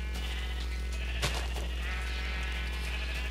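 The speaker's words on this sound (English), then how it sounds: "there's so many sheep in here that by the time you get done shearing them all, it's already grown back on the other sheep" A sheep on a crowded sheep farm in Minecraft Tekkit gives one short bleat over a constant low electrical hum and a hiss of background noise.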